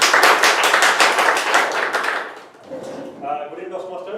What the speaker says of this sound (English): I think he deserves a far better clap.